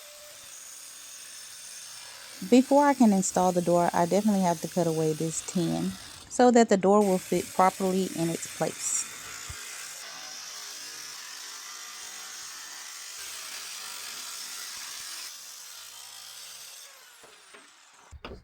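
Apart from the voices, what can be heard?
power tool cutting away tin sheet for a door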